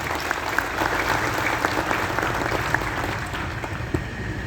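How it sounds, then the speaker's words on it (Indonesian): A large audience claps steadily and loudly at a ceremony for the 77th anniversary of the Indonesian National Police, a dense, even wash of applause running throughout, with a faint crowd murmur beneath. "Tepuk tangan untuk polisi kita."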